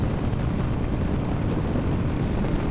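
A flexwing ultralight aircraft's engine holds a steady, loud run-up near 3000 rpm for magneto checks, a constant broadband propeller and engine roar with no talking over it.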